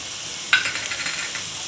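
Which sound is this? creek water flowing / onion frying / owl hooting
onion frying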